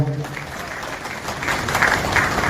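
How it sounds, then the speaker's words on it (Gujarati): An audience at a family flag-offering ceremony at the Dwarkadhish temple in Dwarka claps in sustained, dense applause that swells louder toward the end, with a voice briefly audible at the start. "હજી જોરદાર તાળીઓથી વધાવો"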